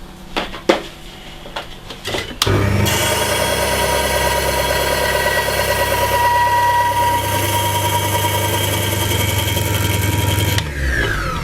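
An electric disc sander starts up with a couple of clicks and then runs continuously at a steady loud whine, sanding a small wooden model ship part at an angle, before it is switched off near the end.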